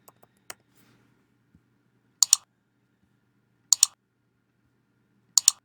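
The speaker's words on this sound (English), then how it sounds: "Let me type this up again real quick." Typing on a computer keyboard in Cricut design work comes as a few sharp clicks at first, then three short clusters of two quick, close, crisp keystrokes spaced well apart, with near silence between.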